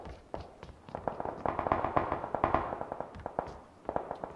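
Rapid gunfire in the PUBG battle royale game: dense bursts of sharp cracking shots, fairly faint and distant, some spaced single reports and some tight volleys, with no talk over them.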